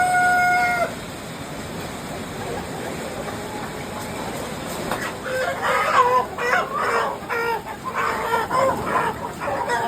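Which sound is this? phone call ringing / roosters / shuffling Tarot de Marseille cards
roosters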